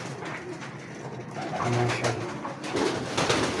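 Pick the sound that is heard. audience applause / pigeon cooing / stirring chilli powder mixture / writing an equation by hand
pigeon cooing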